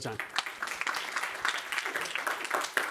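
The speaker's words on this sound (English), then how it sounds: "give everyone a round of applause" Applause from an audience, a dense patter of clapping that holds steady throughout, with voices talking over it.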